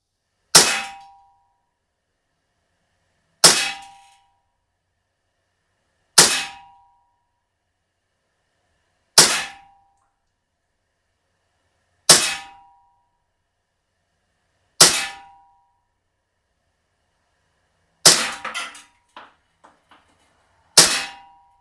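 Seven shots from a Crosman P1 CO2 BB pistol strike a metal target outdoors, each a sharp, ringing clang spaced about three seconds apart, with brief rattling after one hit and silence between.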